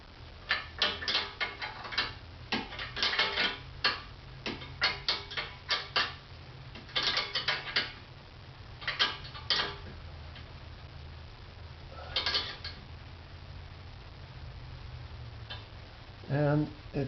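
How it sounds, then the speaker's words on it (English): A 7/16 box end wrench tightens an acorn nut on a motorcycle exhaust baffle in a Hard Krome 3-inch straight pipe, making quick bursts of metallic ratcheting clicks in close-up clusters separated by pauses. "Box end wrench,"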